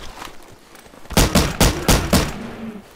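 Add-on guns fire in a video game: about five sharp gunshot bursts in quick succession, loud and close, with no talking.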